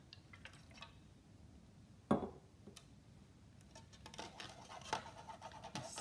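Alkali solution poured into acid in a glass beaker in a school lab, heard as one sharp clink and splash followed by soft, faint liquid patter and drips in a quiet room.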